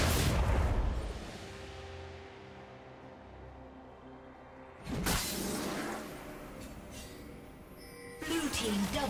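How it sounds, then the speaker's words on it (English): A turret is destroyed in League of Legends with a heavy, crumbling blast at the start, a second loud impact burst midway and another near the end, with quieter ringing game effects between them. "Red team's turret has been destroyed."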